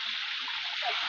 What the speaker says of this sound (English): She's taking shower in a waterfall